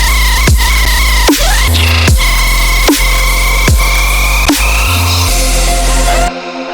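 Loud, dense music track with reversed reverb risers that swoop in repeatedly as sliding sweeps over a steady pulsing beat, cutting off sharply at the end.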